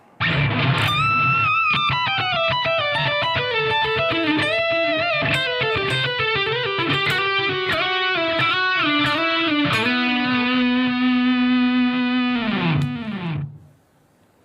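An electric guitar solo with a sliding lick plays over a backing track, distorted and effected, with bending, gliding melodic notes in a steady triplet-feel phrase before a long sustained note fades out.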